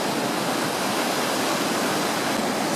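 Surf washing onto an empty beach at Pennington Bay on Kangaroo Island, a steady, loud broadband roar of breaking waves that holds without pause throughout, with no voices.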